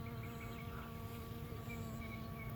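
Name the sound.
bees buzzing around flower pollen in garden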